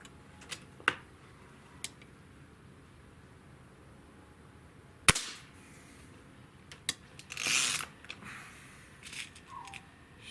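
A Diana RWS 75 match air rifle fires one sharp, close crack midway through an otherwise quiet stretch, with scattered faint clicks and handling noises before and after.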